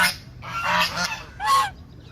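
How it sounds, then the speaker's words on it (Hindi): Goose honking in a few loud, harsh calls: two overlapping honks followed by a separate single honk, close and clear with no talking over them. "बतख को कहते हैं गूस।"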